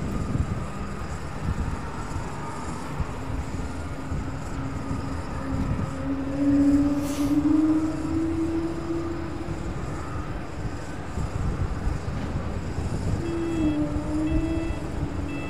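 A Boeing 747 jet landing on a runway at Amsterdam Schiphol, heard from a distance as a broad, rumbling roar with a droning engine tone that slowly rises and falls, steady and moderately loud throughout.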